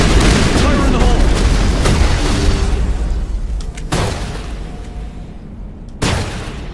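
A grenade goes off in Mass Effect, a booming blast with a long fading rumble, then two more sharp bangs spaced apart, with voices speaking over the combat.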